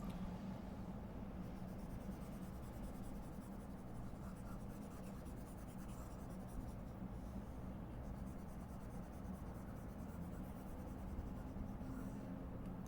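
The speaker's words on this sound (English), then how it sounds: "So let me just erase these straight away, right?" Steady rubbing and scrubbing of an eraser across a board, a continuous soft friction hiss lasting many seconds, faint and unbroken, with no voices.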